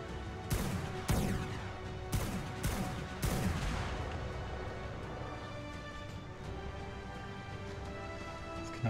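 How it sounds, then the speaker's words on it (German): Sniper shots from a video game bang through a canyon, several sharp loud reports in the first few seconds, each followed by a long echoing decay that fades into a steady background wash. "Es knallt hier schön im Canyon, wenn du gesnipert hast."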